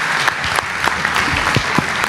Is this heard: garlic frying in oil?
no